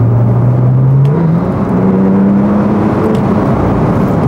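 A Porsche 911 Turbo S of the 991 generation accelerates hard from inside, its engine droning loudly as the pitch steps up through a gear change, a deep continuous roar with no talk.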